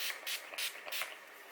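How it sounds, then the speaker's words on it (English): Urban Decay De-Slick makeup setting spray misted in several quick bursts, each a soft airy hiss close to the listener, about five sprays in a row with brief gaps. "So this is the Urban Decay De-Slick setting spray"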